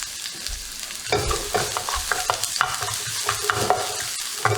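Garlic frying in cooking oil for Thai Pad See Ew noodles, a steady loud sizzle with repeated scraping stirs and spatula clacks, close by and with no talk.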